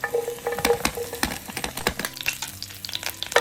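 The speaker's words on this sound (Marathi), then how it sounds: "आता थोड्या तुपात मिरच्या परतून घेऊ आपण" Green chilies frying in hot ghee for sabudana khichdi, a steady crackling sizzle broken by repeated scrapes and clinks of a spoon stirring in the pan, close and fairly loud with no talking.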